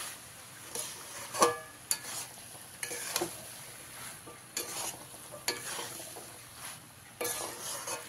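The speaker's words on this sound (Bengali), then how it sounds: "নারকেল কুচিটা দিয়ে আবারও ভালো করে মিশিয়ে নিতে হবে।" A spoon stirs vegetarian pea ghugni after fried coconut pieces are mixed in, giving quiet scraping strokes and sharp clinks against the pan with a faint sizzle underneath and no talking.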